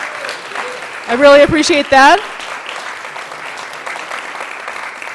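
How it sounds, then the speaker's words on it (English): An audience at a digital journalism meetup gives a short round of applause, a soft clapping wash heard beneath a person speaking into a microphone. "Let's have one more round of applause for these candidates for putting themselves out there."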